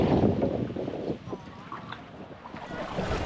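A small boat moves across water in Oslob, Philippines, with wind buffeting the microphone and splashing water, rough and close, with faint bits of talk in the background.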